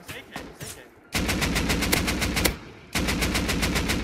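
Rapid automatic AK rifle fire in the survival game Rust, two loud sustained bursts of evenly spaced shots separated by a short pause, heard up close with no talking over them.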